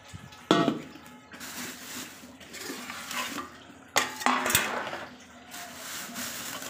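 Fish brought home from the market are tipped out into a container and sorted by hand, giving wet clattering thumps and the knock of pots and utensils, close and fairly quiet, with two sharper bangs and no talking.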